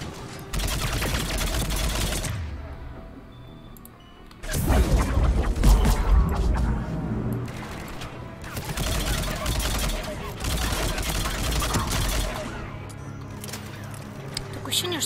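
Sustained gunfire during a firefight at a Cerberus fighter base in the video game Mass Effect 3: dense, loud bursts of rapid shots in long waves with short lulls, and someone talking over the shooting.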